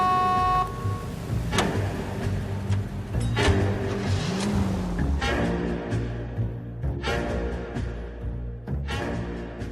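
Car driving through city streets in the L.A. Noire video game, engine revving and shifting in repeated bursts with a rising and falling pitch, loud and close, and a brief horn-like tone at the start.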